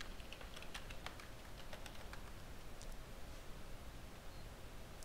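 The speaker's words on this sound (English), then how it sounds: "I'm going to type my password." Someone typing a password on a computer keyboard, a faint scatter of quick key taps over a steady hiss of background noise.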